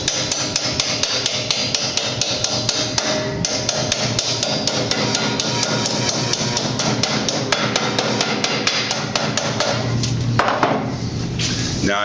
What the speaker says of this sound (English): Hammering this lip over, lock that into place.